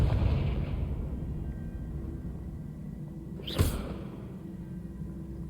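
The Confringo blasting spell in Hogwarts Legacy goes off as a single whooshing burst a few seconds in, rising out of a low ambient rumble and quickly fading.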